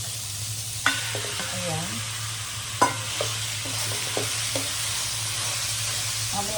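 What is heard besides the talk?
ground pork frying and being stirred in a pan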